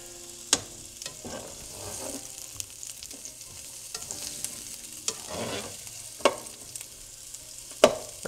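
Onions frying and cooking down in a pan give a steady low sizzle, broken by sharp clacks and scraping bursts as they are stirred and broken up, with no talking.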